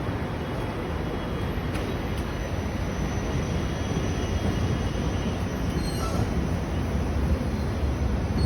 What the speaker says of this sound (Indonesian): kereta layang yang menghubungkan Terminal 1, 2, dan 3 juga berhenti di stasiun bandara